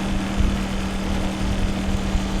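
A WMoto Morbius 250 motorcycle idles close by, its engine and exhaust giving a smooth, quiet, steady hum without revving.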